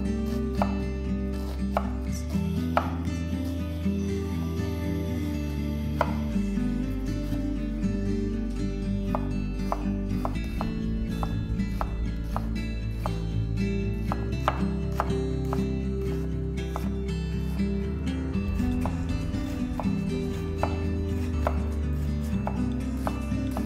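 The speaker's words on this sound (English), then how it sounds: "One onion, finely chopped." An onion being finely chopped with a knife on a wooden board for congee, a steady run of close, crisp cuts with faint rubbing, alone and fairly loud over a low background hum.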